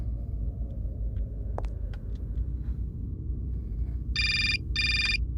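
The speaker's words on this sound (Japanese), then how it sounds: "また電話来たな。" A telephone rings in the video game Syberia: two short, bright electronic ring bursts near the end, over a steady low rumble of background ambience.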